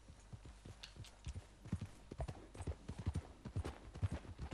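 Horse hooves clip-clop at a steady walking rhythm in Red Dead Redemption 2, close and distinct, each footfall a sharp knock, with faint talk in the background.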